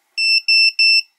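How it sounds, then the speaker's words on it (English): A ViFLY Finder 2 lost model alarm sounds three quick, loud, high-pitched disarm tones in an even rhythm, each a clean sustained beep followed by a short gap, with nothing else audible. "Get three quick tones like that, and that's disarmed now."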